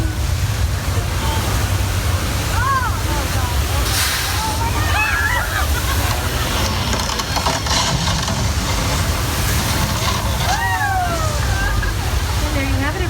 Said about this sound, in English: Our flash flood effect is achieved by having thousands of gallons of water in tanks at the top of the hill, ready to be released whenever we want